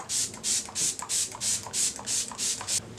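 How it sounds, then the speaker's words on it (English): MAC Prep and Set setting spray is misted onto a face in about nine short, even hissing bursts, close and fairly loud, in a steady rhythm. "spray my face down so that the powders sink into the skin"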